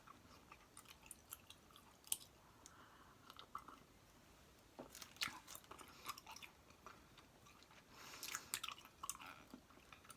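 Bubble gum is chewed close to the mic in a quiet setting, with soft wet smacks and crackles coming in irregular bursts.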